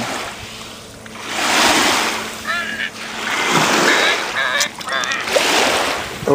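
Cold seaside surf on a trip in Sweden, broad waves rolling and washing in close by amid strong wind buffeting the microphone, with people talking briefly over it.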